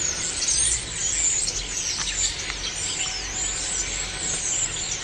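Dense, continuous high-pitched chirping from many birds at once, loud and steady throughout with no talking.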